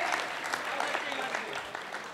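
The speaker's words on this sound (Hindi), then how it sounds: "जरा पीछे तक के लोग एक बार ताली बजा करके मुझे आदेशित करें" A crowd at a Dussehra fair in Kapasan claps steadily together, a dense, continuous wash of applause lasting a couple of seconds.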